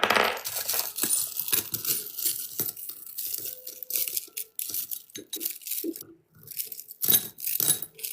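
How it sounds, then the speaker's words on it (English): Rocks are dropped and tumbled into a container, making many close, loud clinks and clattering rattles that arrive in uneven bursts with brief pauses between handfuls. "Put all my rocks in there."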